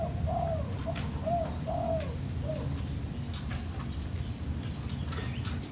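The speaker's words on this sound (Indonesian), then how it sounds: "Perkutut Jatmiko ya." Perkutut (zebra dove) of the Jatmiko line giving several soft, rhythmic coos in the first half, then falling quiet over a low background hum.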